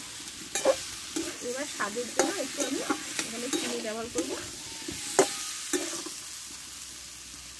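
Pumpkin curry (kumror chakka) stir-fried in a pan, with steady sizzling and repeated scraping strokes of a spatula throughout, while someone talks over the cooking.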